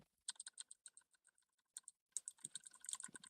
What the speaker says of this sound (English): you can still hear my keyboard